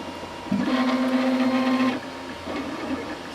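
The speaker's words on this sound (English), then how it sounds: "I'll go and make a little enclosure on the 3D printer" A 3D printer prints a small enclosure, its stepper motors giving off a steady whining hum that starts abruptly, holds for about a second and a half, then drops to a quieter, shifting motor drone.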